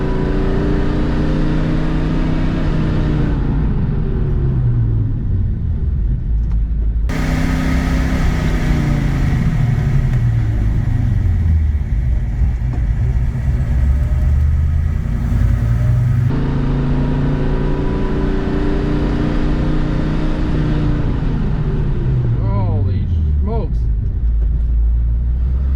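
A car speeds back up to about 60 mph between hard stops while its brakes are bedded in, steady engine rumble climbing through several gear changes inside the cabin, with a voice talking over it.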